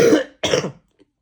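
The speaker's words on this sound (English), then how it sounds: "Pardon the cough." Two harsh coughs in close succession burst out near the listener, then a faint trailing rasp, from a person who is sick while working with a burnt-out electric motor.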